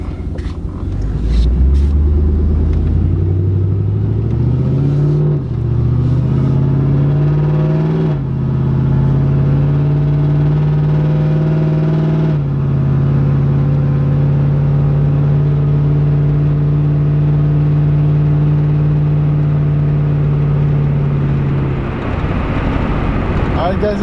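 A truck engine rumbles close by on a test drive after a transmission repair, revving up and settling into a steady drone, with gear shifts marked by brief changes in pitch.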